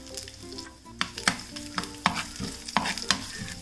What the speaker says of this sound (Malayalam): ഇതിലേക്ക് ഞാൻ തേങ്ങ ഇതുപോലെ കൊത്തി അരിഞ്ഞത് എടുക്കുകയാണ്. അതിട്ടിട്ടൊന്ന് ഫ്രൈ ചെയ്തെടുക്കാം.